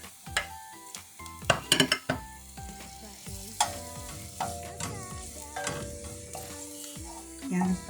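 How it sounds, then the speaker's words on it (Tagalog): Garlic fries in hot olive oil under a soft sizzle while a utensil repeatedly clinks and scrapes against the pan, with bursts of rapid knocks early on and scattered strokes after. "Ayan mga kajuday, mainit ng ating mantika. Ngayon naman ihulog na natin ang ating bawang."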